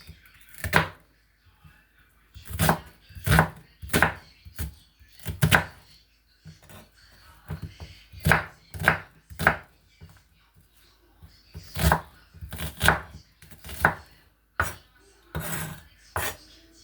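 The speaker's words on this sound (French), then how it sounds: "je vais découper un oignon, un gros oignon." A knife chops a large onion on a board in a home kitchen, with irregular loud thunks in short clusters and pauses between them, close up, alongside some quiet talk.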